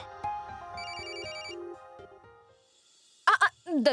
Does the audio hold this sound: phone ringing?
yes